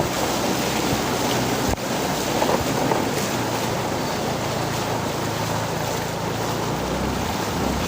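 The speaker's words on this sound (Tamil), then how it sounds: "காற்று வேறு செம்மையாக அடிக்குது" Strong wind roars steadily across the microphone during a flood, with broadband gusting noise that sounds partly like surf, continuous and loud throughout with no talking.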